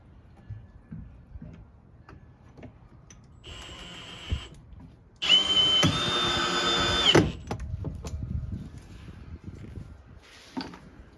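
A power drill drives screws into a camper hatch on a Harbor Freight square drop camper, with short whirring bursts between quieter handling clicks and one longer, louder run in the middle.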